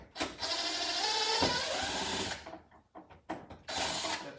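A power drill whirs steadily while backing out a screw from a 2020 Honda Accord rear door panel, followed by short stop-start bursts and faint clicks, close up.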